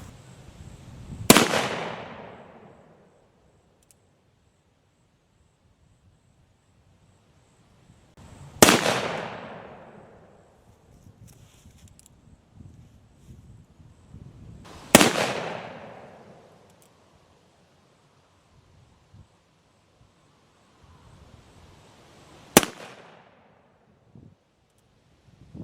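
An Armi San Marco 1851 Navy .36 Sheriff short-barrel revolver fires four loud, well-spaced shots outdoors, each a sharp crack with a short decaying echo, separated by several seconds of near silence.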